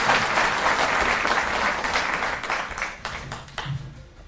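Loud applause from an audience at a public event announcing crop-loss compensation for farmers, dense clapping that starts strong and gradually thins and fades over a few seconds.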